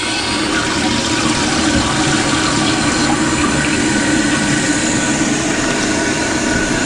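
A toilet tank refills through a new fill valve with a loud, continuous rush of water that runs steadily without a break from start to finish.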